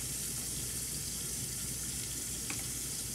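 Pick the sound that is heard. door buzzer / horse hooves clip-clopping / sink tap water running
sink tap water running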